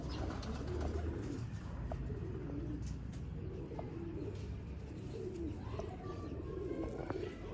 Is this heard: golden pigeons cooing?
yes